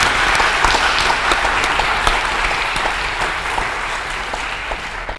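Audience applause at a general meeting: steady, dense clapping from a crowd, loud and sustained throughout before cutting off abruptly at the end, with no talk over it.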